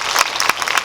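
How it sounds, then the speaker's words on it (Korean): A cinema audience claps at a film Q&A event, a brief burst of dense applause close by. "박수 부탁드립니다."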